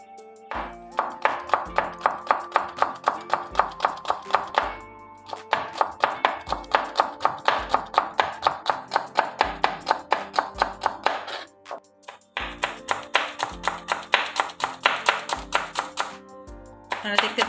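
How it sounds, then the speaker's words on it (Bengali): Knife finely chopping washed bottle gourd peel on a board, a fast steady run of crisp close taps in three long bursts with brief pauses between them. "এখন এটাকে খুব কুচি কুচি করে কেটে নেব।"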